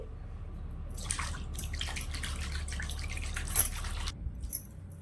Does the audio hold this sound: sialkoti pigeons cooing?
no